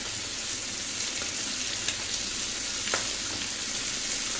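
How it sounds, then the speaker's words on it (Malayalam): Mackerel cooks in a boiling chilli curry gravy, giving a steady, dense bubbling sizzle with a couple of brief sharp ticks, close and unbroken, with no talk. "മുളക് കറിക്കുള്ള ഗ്രേവി തിളച്ചിട്ടുണ്ട് നമുക്ക് അയില ചേർത്ത് കൊടുക്കാം"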